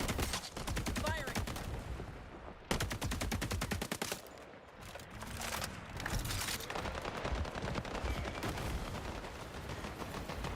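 Rapid gunfire from a shooter video game, loud bursts of automatic fire and shots packed densely across the whole stretch with brief gaps, mixed with game sound effects and occasional voice chatter.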